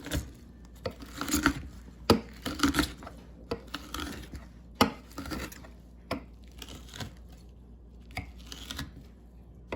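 Knife chopping chili peppers on a cutting board, irregular crisp taps and rasping cuts in quick clusters, close and moderately loud with short pauses between strokes.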